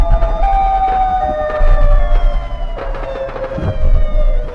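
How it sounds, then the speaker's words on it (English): A wailing, sliding siren tone rises and falls over a rumbling, noisy background, with a few sharp thuds mixed in; it comes from a footage clip purporting to show the Siren Head creature. "Siren Head can be heard making siren noises, and then there are gunshots in the background."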